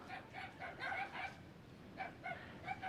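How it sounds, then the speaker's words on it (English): Several short, high-pitched yaps come in quick bursts, a pause, then another cluster, like small puppies barking at moderate distance with no talking. "they are all barking at me because I am talking too loudly for dogs"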